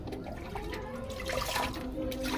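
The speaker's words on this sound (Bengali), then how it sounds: "চলো মাছটা আগে ধুয়ে নিই" Running tap water while fish is rinsed at a home kitchen sink, a steady close splashing wash that continues throughout with a slight swell toward the end.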